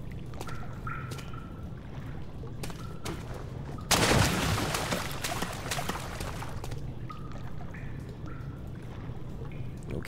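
Water flows and drips in a dark underground area in Amnesia: The Dark Descent, with quiet trickles giving way to a sudden loud rush that gradually settles into a steady stream.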